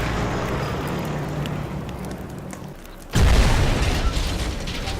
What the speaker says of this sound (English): There's tons of potential carnage and destruction and explosions and all that stuff in the game